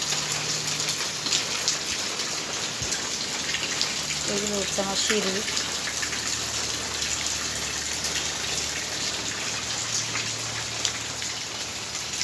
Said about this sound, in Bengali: দেখা যাক বৃষ্টি কতক্ষণ চলে